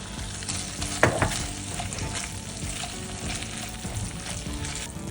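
Lamb liver fry sizzles steadily in a pan with occasional stirring scrapes, a constant moderate crackle and no voices.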